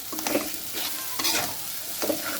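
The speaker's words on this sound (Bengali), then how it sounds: "মশলা একটু কষানো শেষ হলে তারপরে মাছগুলোর সাথে দিয়ে দিব" Spices being sautéed and stirred in a pan for a mashed fish dish, with steady sizzling and a few louder stirring scrapes coming close together.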